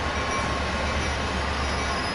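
A freight train of coal-filled cars rolling past, a steady broadband roar of wheels on rails with faint squealing tones, loud and continuous throughout.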